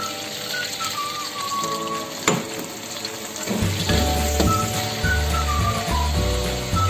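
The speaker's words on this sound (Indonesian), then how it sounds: "Kita tumis-tumis dulu sampai harum bumbunya." Seblak spice paste sautés in a hot pan, a steady loud sizzle and crackle running the whole way, swelling as stirring picks up in the second half, with faint whistling tones over it.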